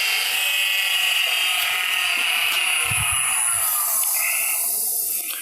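A skew chisel takes a planing cut on wood spinning on a lathe, giving a steady, bright, hissing whine with a faint low thump partway through.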